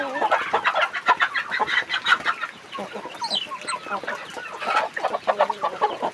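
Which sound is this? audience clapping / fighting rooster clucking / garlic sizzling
fighting rooster clucking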